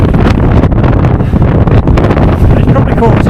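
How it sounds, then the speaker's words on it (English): Strong gusts roar and buffet the microphone nonstop on the open Dalsnibba skywalk platform high above Geirangerfjord, a loud, rough wash with no clear pauses. "So it's windy."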